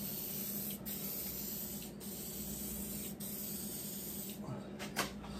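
Steady close spray-gun hiss runs without pause while a second coat of paint goes onto a bullnose patina truck, with brief louder bursts near the end.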